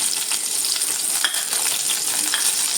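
Two green chilies sautéing in hot oil for tomato chutney give a dense, continuous crackling sizzle with faint stirring ticks, close and steady throughout, with no voices.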